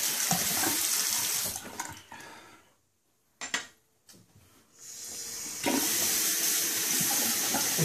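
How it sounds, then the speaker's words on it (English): A bathroom tap runs in a steady, loud hiss, is shut off for a second with a few splashes and clinks, then is turned back on at full flow, with no talking. "Excuse the water, you know."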